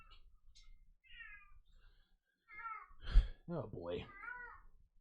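Indoors, a house cat meows several times, a few soft high calls followed by louder, drawn-out meows up close, while a woman mutters briefly among them.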